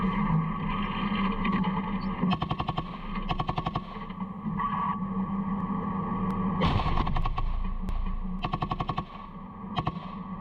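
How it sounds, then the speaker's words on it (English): Military vehicle's machine gun and main gun firing high-explosive rounds into a tree line near a BMD, heard as repeated rapid bursts and heavier booms with echo over a steady engine drone, loud and close, with no speech. "We now see them firing HE rounds into the tree line behind the BMD."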